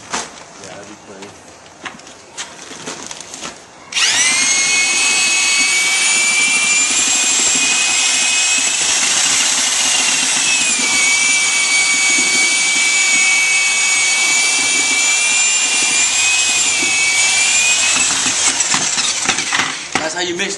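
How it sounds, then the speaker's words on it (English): Power mixer churning thin set mortar in a bucket, a loud steady whine that starts abruptly after a few seconds of quieter background and holds with slight pitch dips before easing off at the end. "That's how you mix thin set."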